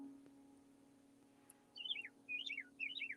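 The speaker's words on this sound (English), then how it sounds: "I have a little birdie right outside my window." A small bird sings just outside a window, three short warbling phrases arriving after a quiet stretch, faint and slightly distant over a steady low hum.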